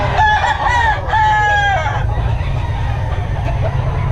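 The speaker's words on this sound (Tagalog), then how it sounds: "Maraming manok ngayon, mga kabiyahe." Roosters crow loudly and close by, several drawn-out calls in the first two seconds, with chickens clucking and a steady hum of farmyard noise underneath.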